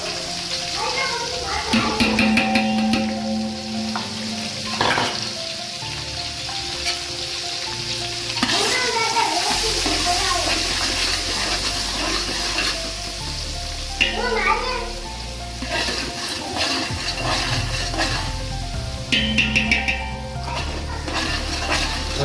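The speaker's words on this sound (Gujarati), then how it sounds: "હવે જ્યાં સુધી ડુંગળી લાલ થાય ત્યાં સુધી થોડીક વાર આપણે ચડવા દઈએ" Chopped onions sizzling and frying in a pan for dal khakhara, with a steady close hiss and occasional stirring clatter while a person talks over it throughout.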